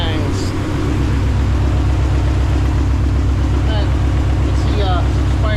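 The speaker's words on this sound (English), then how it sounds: "this motor is good. No knocks. No bangs." A Dodge SRT-4 turbo engine idles steadily, droning at a constant level throughout with no knocks, with brief faint chirps over it.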